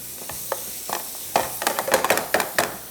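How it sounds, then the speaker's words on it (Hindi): Onion and garlic frying lightly in a pan, with a steady soft sizzle broken by sharp scraping stir strokes that grow busier and louder in the second half; no talking. "सबसे पहले प्याज और लहसुन को हल्का सा फ्राई करेंगे"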